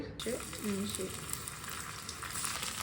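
Ginger-garlic paste hitting hot oil in a pan, a brief sharp hiss at the start that settles into a steady, moderately loud sizzle with some stirring and scraping mixed in.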